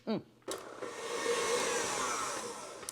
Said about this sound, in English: I'm going to keep the mixer going